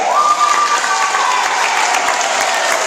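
Schoolchildren at an outdoor assembly in a park applaud themselves after planting a pine tree: loud, dense, continuous clapping from many small hands, with a brief high voice calling out near the start.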